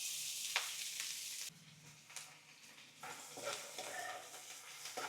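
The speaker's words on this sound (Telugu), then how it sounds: "ఆయిల్ హీట్ అయిన తర్వాత ఆనియన్స్, పచ్చిమిరపకాయలు, కరివేపాకు ఒకేసారి వేసేసుకోండి" Onions, green chilies and curry leaves frying together in hot oil for egg bhurji, a steady close sizzle with crackling bursts and brief stirring, no voices.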